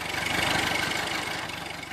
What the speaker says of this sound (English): Brown clouds of exhaust puffed out of the motor truck's tailpipe as it puttered away from the curb.